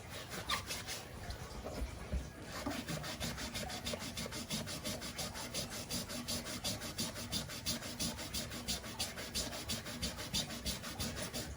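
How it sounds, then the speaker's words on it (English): A wet magic eraser rubs scuffs off the midsole of an Air Jordan "Storm Blue" sneaker, a close, steady back-and-forth scrubbing with a quick, even rhythm that continues throughout with no talking. "use a magic eraser to go ahead and get all those scuffs out of the midsole"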